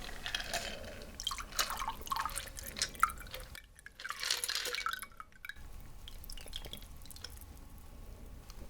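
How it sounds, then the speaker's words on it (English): A cocktail is strained into a glass in a New Orleans fine-dining setting. A steady, close liquid trickle and splash runs throughout, with a brief lull midway before the stream resumes. "And now we'll strain into your glass."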